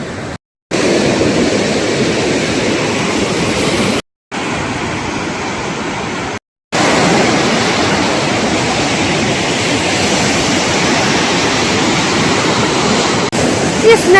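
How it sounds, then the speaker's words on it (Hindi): A river in flood rushes through Lahul Spiti in Himachal, a loud, continuous roar of churning water heard close by and alone, broken only by a few brief silent gaps. "ये देखो ये रही रिवर"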